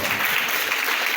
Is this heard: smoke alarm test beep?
no